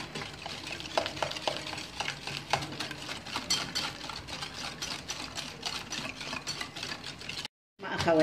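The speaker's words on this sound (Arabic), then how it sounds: "ونبداو في التحريك" Cake batter being stirred in a bowl, dry ingredients and almond powder mixed by hand, gluten-free: a steady scraping, clinking rhythm of utensil against bowl, close and fairly quiet, ending with a brief silence.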